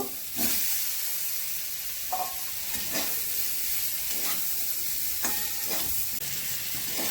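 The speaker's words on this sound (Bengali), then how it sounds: "ভাজা ফুলকপিগুলো দিচ্ছি দিয়ে কষিয়ে নেব" Fried cauliflower sizzles steadily in a hot pan with ground spices while a spatula scrapes and stirs at a slow, regular pace, several strokes in a row.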